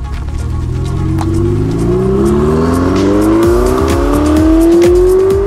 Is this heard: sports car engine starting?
yes